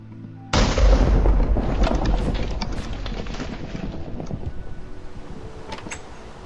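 In a video game set on a space station, a sudden loud burst opens a rapid string of sharp gunshots that gradually thin out into quieter scattered shots and rumbling.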